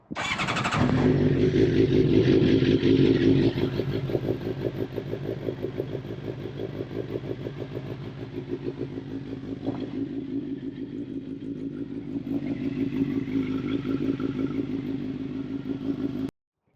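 A Suzuki GSX-R750 motorcycle engine with a newly replaced valve cover cranks and fires, then settles into a steady, close idle with a faint clatter, blipping slightly toward the end before cutting off abruptly.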